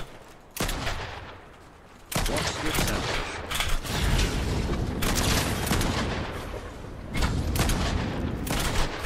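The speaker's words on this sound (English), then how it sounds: "who the fuck shooting at me?" Bursts of gunfire in a Fortnite ranked match, loud rapid volleys of shots in several long stretches with brief gaps between them.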